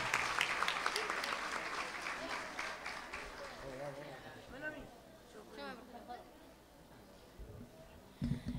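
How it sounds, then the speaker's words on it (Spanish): A crowd in a school event hall applauds for teachers, a burst of dense clapping that gradually thins out, while people talk and chatter over it. "Hay un aplauso para mis profesores."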